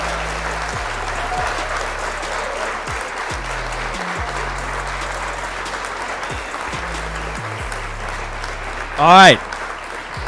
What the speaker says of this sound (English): Let me get this hand clap for the Xbox community